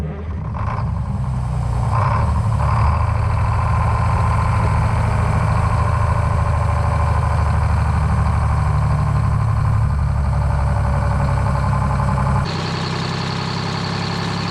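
A White Road Xpeditor truck, parked since 1996, runs at a steady idle after its fuel pump is primed, a loud continuous low engine drone with no talk, briefly shifting near the end.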